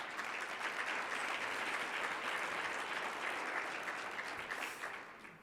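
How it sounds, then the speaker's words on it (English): A conference audience at a foundation event in a large hall claps together, a sustained, fairly distant wash of applause that holds steady and tapers slightly at the end. "I thank you for that applause"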